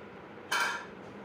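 Spicy pasta stirred in a pan, a single short scraping clatter of utensil against cookware rising from a quiet background and fading after about half a second.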